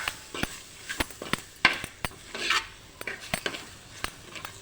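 Chopped tomatoes with spices being stirred in a pan over low heat while cooking a pearl spot fish dish, with quiet irregular scrapes and taps of a utensil against metal, close and without talk.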